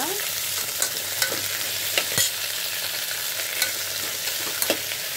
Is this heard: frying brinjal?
yes